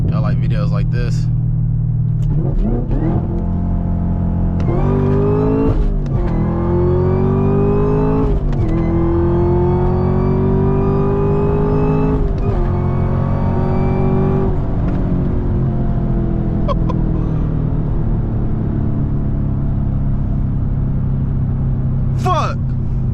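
A stock Chevrolet Camaro ZL1 with a six-speed manual pulls hard from inside the cabin, its loud engine note climbing through the gears with a rising whine and brief dips at each shift, held steady throughout.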